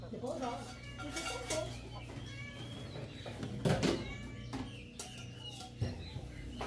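Backyard chickens cluck and squawk near a home kitchen where carrot is being grated, with scattered clucks and a louder burst in the middle, mixed with voices and household noise.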